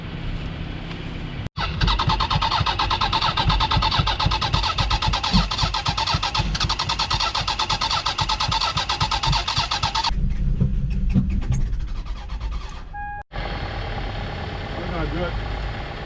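A Toyota Sienna minivan left abandoned cranks briefly, fires up and runs with a loud, rough, steady engine drone. The tone then shifts to a quieter idle, cuts out for a moment and carries on idling.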